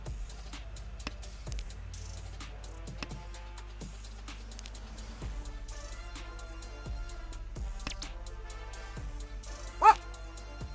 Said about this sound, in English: Why are you barking at me so much?